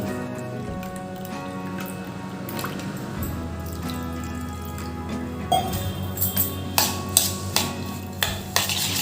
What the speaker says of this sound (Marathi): त्यात आता पाऊन वाटीच पाणी घेते